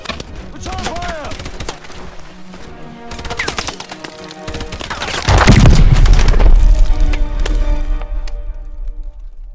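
Gunfire and explosions in a futuristic Call of Duty campaign battle: sharp cracking shots and bursts early on, then a loud, sustained booming explosion rumble in the middle that lingers, with scattered metallic impacts and brief voices in the mix.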